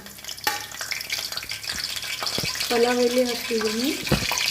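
Bay leaves sizzle in hot Freedom oil, a continuous crackling fry with stirring clatter and a few sharp clicks, while a brief melodic tone rises midway and a voice is faintly present.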